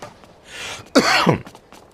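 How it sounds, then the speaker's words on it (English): A single harsh cough from a sick person bursts out close by, with some faint rustling before it and a brief quiet tail after, during Virtua Tennis 4 gameplay on PS3. "I keep coughing because I'm sick"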